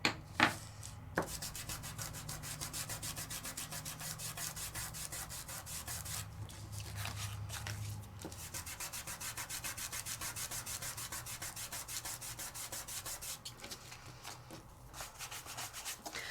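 Microfine glitter is burnished through a layering stencil with the lid on, making a steady, soft, close scratchy rubbing that continues almost without a break, with a few faint clicks at the start.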